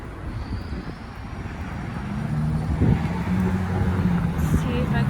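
A New York City subway train rumbles low and steadily, with a faint tonal whine rising midway as it moves through the station.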